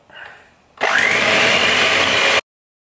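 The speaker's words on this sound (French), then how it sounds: "on prend le batteur. Voilà, je mélange un peu, on part doucement." An electric hand mixer whipping cream with icing sugar into chantilly, starting abruptly with a loud steady whirring buzz that runs for about a second and a half, then cuts off.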